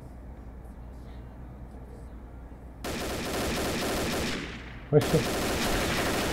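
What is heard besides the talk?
gunshots in the video game Combat Arms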